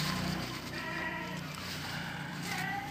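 Farm goats bleat in an avocado garden planted with odot grass, their wavering cries carrying over a steady outdoor background of moderate loudness.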